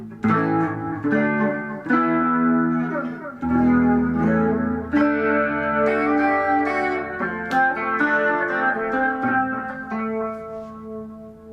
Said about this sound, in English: I still have the echo on too.